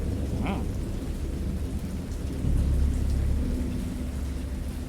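Thunder and rain: a steady hiss of rainfall with a deep rumble of thunder rolling in midway, moderately quiet and with no voices.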